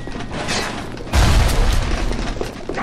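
A grenade explodes in BioShock Remastered, a deep, heavy boom that hits about a second in and rolls out into a dense, rumbling tail over steady game ambience.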